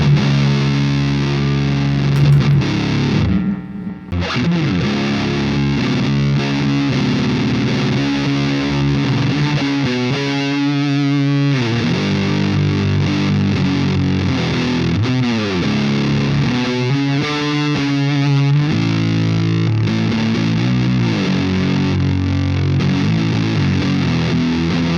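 Electric guitar played through an EVH 5150 III EL34 amplifier on its blue channel, fuzzed out for a stoner doom tone, loud and heavily distorted sustained chords and riffs with thick low end and noisy saturation.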